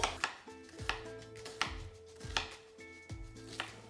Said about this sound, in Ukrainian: Нарізаємо цибульку